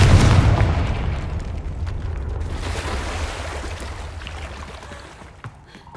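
Confringo spell blast in Hogwarts Legacy: a single loud booming explosion up front, its rumbling tail slowly fading over several seconds into quieter game ambience.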